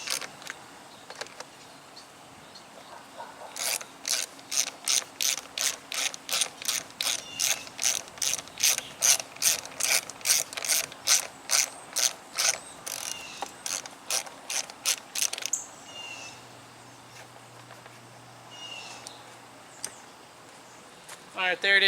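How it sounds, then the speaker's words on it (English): A ratchet clicks in a fast, steady series while nuts are tightened on the throttle position sensor of a Pontiac Vibe or Toyota Matrix, close and crisp, then stops and faint activity continues. "Make sure you tighten down the two nuts and put the tabs back in."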